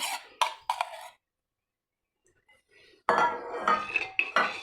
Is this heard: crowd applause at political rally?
no